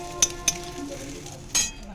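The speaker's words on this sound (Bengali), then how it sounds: "শামুকগুলোকে আমি গ্যাসের আঁচ কমিয়ে বাড়িয়ে ভেজে নিচ্ছি।" Snails fry in a pan over a gas flame, a soft sizzle running underneath as a utensil stirs, with a few sharp metallic clinks against the pan near the start and end.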